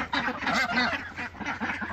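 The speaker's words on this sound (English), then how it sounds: "The ducks are real loud." Ducks housed in a full barn quack and honk loudly in overlapping bursts, a close, raucous chorus of nasal calls that rises and falls without a break.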